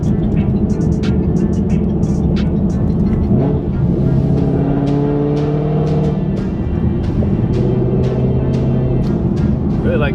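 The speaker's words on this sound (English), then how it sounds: "just barely blip into the throttle just to really get that crisp sound out of it" A 2019 Ford Mustang GT V8 with 1 7/8-inch long tube headers and a Solo Performance exhaust rumbles loudly at close range, its deep steady drone rising in pitch through a couple of throttle revs before settling back.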